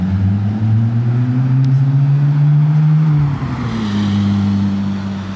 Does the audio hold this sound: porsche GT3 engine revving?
yes